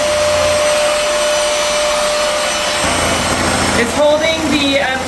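A Trucozie cordless vacuum cleaner runs with a loud, steady motor whine and airy suction roar, close up. Its pitch shifts slightly partway through, and a voice briefly sounds over it near the end.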